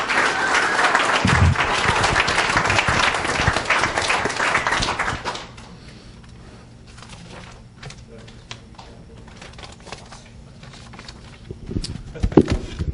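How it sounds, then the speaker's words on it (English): Loud audience applause greets panel guests at a live business event, dense clapping for about five seconds before stopping abruptly, followed by quiet room tone with scattered taps and a few faint claps near the end. "Let's give them a round of applause."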